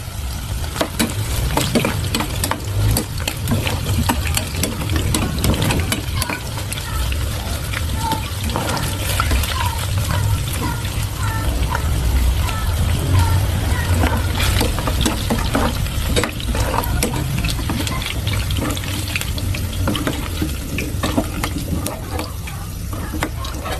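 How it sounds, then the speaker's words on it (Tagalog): Chicken pieces fry in hot oil in a pan with a steady, loud sizzle that runs without a break, while a voice talks faintly underneath. "mainit na po yung mantika, isa-isa na natin ipiprito para hindi dumikit sa ating kawali"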